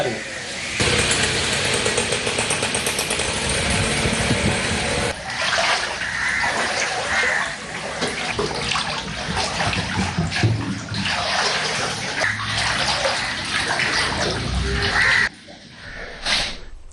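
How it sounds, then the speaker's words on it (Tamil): Floodwater from heavy rain in Puttalam district pours and gushes loudly into houses, a continuous rushing stream close by. A voice speaks over the water. "வீடுகளுக்கு வெள்ள நீர் வீடுகளுக்குள் நிறைந்துள்ள காட்சிகளை இப்போது நாங்கள் பார்ப்போம்"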